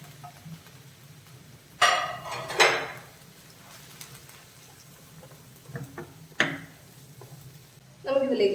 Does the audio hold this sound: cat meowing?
no